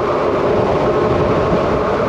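An Onyx RCR electric hub-motor scooter running at full throttle uphill, a loud, dense, steady rushing roar of wind and road noise with no distinct motor whine, continuous throughout.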